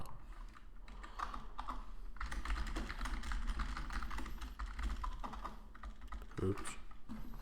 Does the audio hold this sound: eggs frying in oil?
no